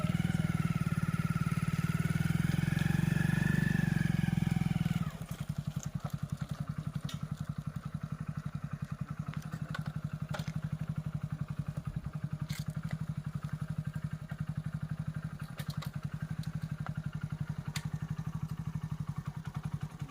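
A motorcycle engine runs steadily throughout, louder and revving at first, then settling into a rough, rhythmic idle with occasional clatter.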